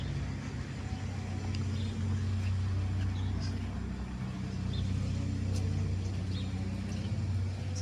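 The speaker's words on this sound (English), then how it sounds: "It's a loud car." A loud car passing on a street in the small town of Vale, Oregon, with a steady low engine rumble that stays close and prominent throughout.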